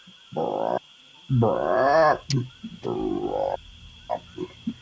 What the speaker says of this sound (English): the sound of frogs in chirping and croaking in different varieties intensifies significantly